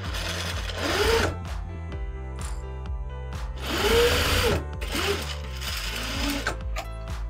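Sewing machine stitching across a mini tote bag, a steady mechanical whir in three bursts with short pauses between them, close and clear with no talking.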